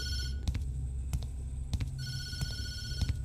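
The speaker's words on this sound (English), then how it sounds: "They're tempting me too much to answer that phone." Telephone ringing in the horror video game Tattletail, a steady electronic ring repeating in bursts across the clip, fairly close with no talk over it.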